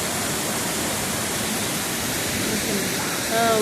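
Panchalinga waterfall in the Thirumoorthy hills roars nearby, a loud, dense, unbroken rush of falling water that stays even throughout, with a faint whistle-like tone near the end and no speech.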